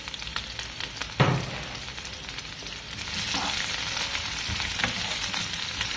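Sliced sweet pepper and chili fry in oil with a close, continuous sizzle, a sharp knock of a utensil early on and gentle stirring scrapes, no speech.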